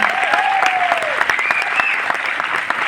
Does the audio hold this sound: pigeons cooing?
no